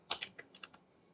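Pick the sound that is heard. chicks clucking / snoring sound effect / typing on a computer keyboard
typing on a computer keyboard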